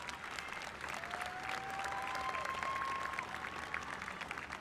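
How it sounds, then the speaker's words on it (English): An audience at a 2022 Marysville school graduation ceremony applauds in a broad, even patter of many hands, moderately distant and sustained, with a thin tone drifting faintly through. "Class, can we please give a round of applause for all the parents and family members?"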